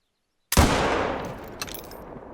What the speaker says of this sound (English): let's have a look at the animations for iron sights, shooting, and the reload animation and what it sounds like